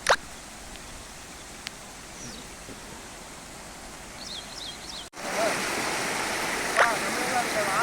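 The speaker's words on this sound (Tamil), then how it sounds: "ஃபுல்லாக எல்லா பக்கமும் வழியுது அணை எல்லா பக்கமும் வழிஞ்சு ஃபுல்லாக தண்ணி" A constant rushing roar of water pouring over a dam, swelling louder partway through, with faint voices now and then.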